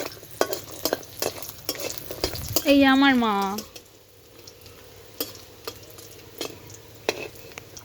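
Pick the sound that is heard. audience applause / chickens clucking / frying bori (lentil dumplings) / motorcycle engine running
frying bori (lentil dumplings)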